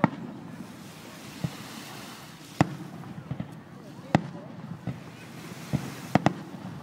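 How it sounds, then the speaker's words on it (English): Fireworks bursting on Victoria Day in Canada near a beach, sharp booms and cracks going off at irregular intervals over a low background rumble of surf and wind, with people talking faintly. "I hope you guys aren't too bored of these fireworks. This is Victoria Day in Canada for you."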